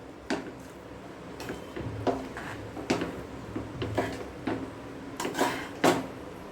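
Chicken egg fried rice being mixed in a pan, with a series of close, irregular metallic scrapes and clanks of a utensil against the pan, each brief and separated by short pauses.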